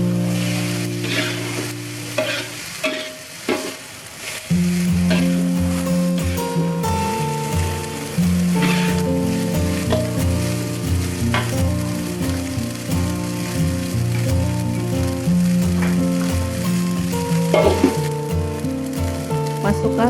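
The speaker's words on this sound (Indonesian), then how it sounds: "Aduk sampai semua tercampur rata." Rice vermicelli is stirred and fried in a pan, sizzling steadily and loudly, with repeated scrapes and clatters from the stirring and no one speaking.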